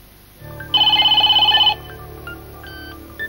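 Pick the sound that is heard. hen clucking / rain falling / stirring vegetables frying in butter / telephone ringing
telephone ringing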